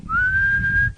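A single clear whistled tone, close and steady, rising slightly at the start and then held for nearly a second over a low rumbling background, with no talking.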